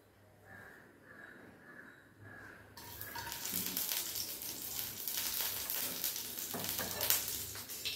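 Whole cinnamon, cardamom and cloves drop into about two tablespoons of hot oil, bursting into a loud, steady crackling sizzle that continues to the end after a quiet start with faint tones.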